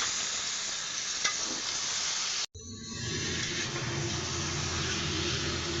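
Chicken dropped onto fried spice paste in a pan, a steady sizzle broken by a brief hush, then a louder, fuller hiss with bubbling as the meat hits the oil, close and continuous.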